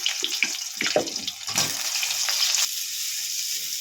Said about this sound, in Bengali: ওই তেলের মধ্যে আমি এবারে এই বেগুনগুলোকে ভেজে নেবো একটু